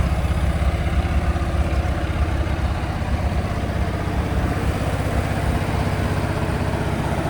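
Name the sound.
farm vehicle engine running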